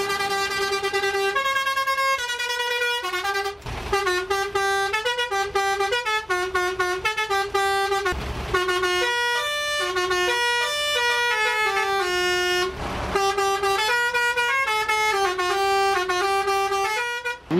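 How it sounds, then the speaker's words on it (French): A MAN KAT truck's multi-melody horn plays a loud, close tune of stepped, brassy notes, run after run, with short gaps between phrases. "Et le dernier, c'est un klaxon avec plusieurs mélodies."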